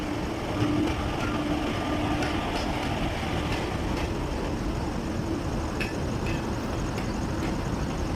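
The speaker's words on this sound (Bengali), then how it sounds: "এই যে আমাদের ট্রেন ঢুকছে" A train rumbles steadily past at moderate distance as it arrives at a station, wheels clattering in a continuous roar with occasional faint metallic squeals.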